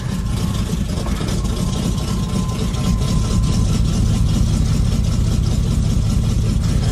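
The carbureted 350 V8 in a 1974 Chevy Nova idles steadily with a deep, even, lumpy rumble, recorded close by without any talk.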